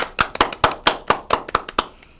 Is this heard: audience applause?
yes